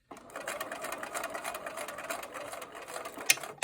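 A sewing machine runs steadily, stitching a red star-pattern fabric piece up to a marked dot and back-stitching, a continuous close whir with a couple of sharp clicks near the end.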